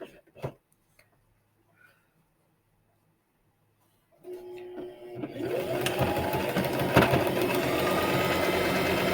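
A home sewing machine stitching fabric triangles together starts up about four seconds in and runs steadily and loudly to the end, after a quiet stretch with a few soft handling taps.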